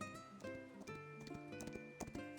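Horse hooves clip-clopping on grassland in the game Love and Deepspace: faint, steady rhythmic hoofbeats with soft tack sounds under a quiet musical backdrop.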